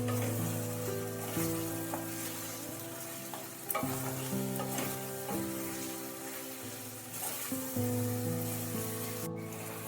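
Crispy potatoes and batter frying in hot oil for Potato 65, a dense continuous sizzle with repeated stirring scrapes and occasional clinks over about ten seconds, nearby and without speech.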